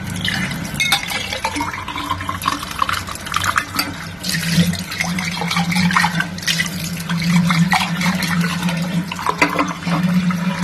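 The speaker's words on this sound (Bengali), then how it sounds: "এটা একটু ধুয়ে দিই।" Water runs from a tap while something is rinsed by hand, a continuous splashing trickle close by with irregular drips and sloshes and a steady low hum underneath.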